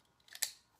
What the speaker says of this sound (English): a utility knife and cut it off